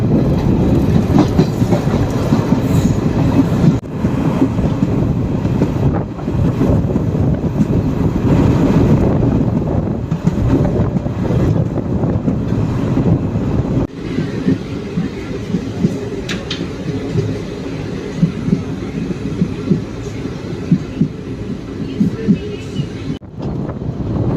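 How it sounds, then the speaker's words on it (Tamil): A Salem–Karur–Trichy passenger train gathers speed on the rails, a loud continuous rumble with rhythmic clickety-clack from the wheels and gusting wind buffeting the microphone, heard from inside the moving carriage. "ட்ரெயின் கரெக்டாக பார்த்தீங்கன்னா ஆன் டைம் சேலம் ஜங்ஷனில் கிளம்பிடுச்சு"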